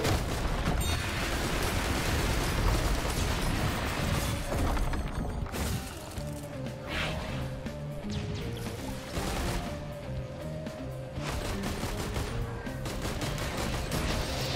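Missiles launching and streaking off in Risk of Rain 2 amid a dense, continuous barrage of game combat sounds, with repeated bursts and impacts layered over a busy soundtrack.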